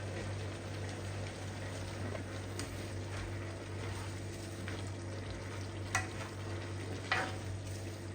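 String beans and squash simmer over a low fire in a pan, a faint continuous sizzle and bubbling under a steady hum, with a few soft stirring clinks.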